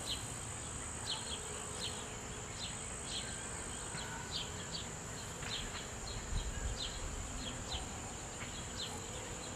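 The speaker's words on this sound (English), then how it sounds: "See, there's so many bees flying back, this box is getting jam-packed good." A steady, dense buzz of many honeybees flying close around a hive, continuous throughout with faint insect chirps above it.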